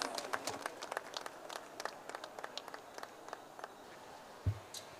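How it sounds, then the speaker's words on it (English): Scattered applause from an audience at a Delhi Public School event in Hyderabad honouring winners, fairly sparse, irregular claps at moderate distance, ending with a single louder thump. "May we have a huge round of applause for our winners"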